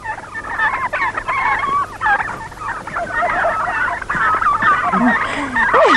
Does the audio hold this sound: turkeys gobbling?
yes